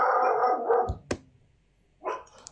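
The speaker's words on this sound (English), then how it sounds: "My dog's bark alarm." A dog gives a few short, sharp barks with a whimpering tone, close by, separated by brief quiet gaps.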